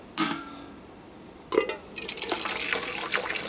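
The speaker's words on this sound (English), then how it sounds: "a little bit of hot water in there just to get the last little bit out" A short splash, then hot water pouring steadily into a metal beer-kit can, with a brief clink of metal partway through.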